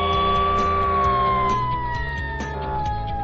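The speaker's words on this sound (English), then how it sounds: "Fire engine." A fire engine siren wails steadily and loudly, its tone sliding slowly downward as the vehicle passes, with engine rumble underneath.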